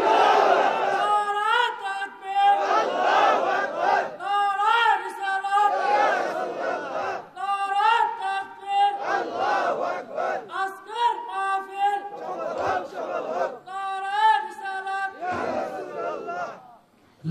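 A large crowd at a Bangla religious gathering shouts the takbir in repeated loud unison bursts, each call separated by brief pauses, rhythmic and forceful throughout.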